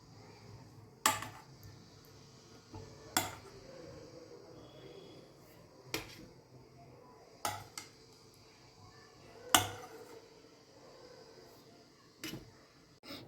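Boiled baby corns being placed onto a plate, several sharp isolated clinks and knocks of food and utensil on the plate, spaced a second or two apart over a quiet background.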